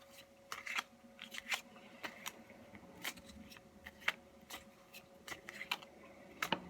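Tarot cards being shuffled, a series of faint, quick papery riffles and snaps in irregular bursts against a quiet room hum, close to the listener with no talk.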